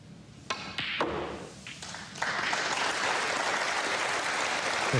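Snooker crowd applauding Ronnie O'Sullivan in a semi-final, starting with a few scattered claps and building into steady, full applause that carries to the end.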